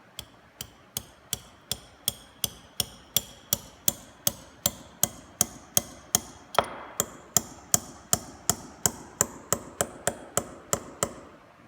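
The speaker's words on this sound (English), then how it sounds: "I'm going to use a brick hammer." A brick hammer taps a mason's line pin into a mortar joint beside a brick, producing a long, even series of about thirty sharp metallic strikes at a steady rhythm, close and clear with no talk.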